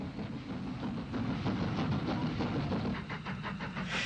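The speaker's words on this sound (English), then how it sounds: "Here a jeep brings the 2:15 p.m. train for Dublin out of Great Victoria Street Station" A steam-hauled passenger train for Dublin pulls out of Great Victoria Street Station in Belfast, its wheels clattering rhythmically over rail joints with a steady low rumble, heard from moderately close.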